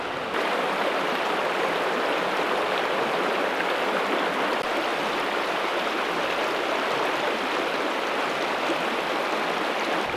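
A small Scottish burn rushes and burbles without a break, close and steady, with no voices over it.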